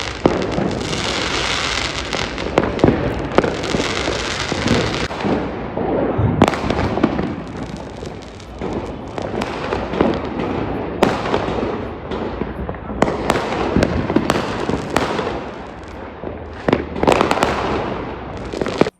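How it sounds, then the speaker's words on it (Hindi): Diwali fireworks and firecrackers burst continuously from nearby rooftops, a dense run of loud cracks, pops and booms overlapping with almost no gaps for the whole stretch. "मैं छत पे जाके मैं दूसरों के पटाखे देख के खुश हो जाती हूँ। ये कंटिन्यू शॉट्स है।"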